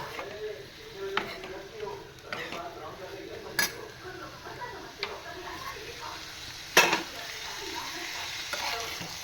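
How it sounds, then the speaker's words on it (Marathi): Fresh cashews stir-fried in oil for a Malvani-style cashew dish, a soft sizzle under repeated clinks and scrapes of a spoon against the pan, with occasional louder knocks and some talk. "मस्त असे तेलावर छान परतवून घ्यायच्यात आपल्याला."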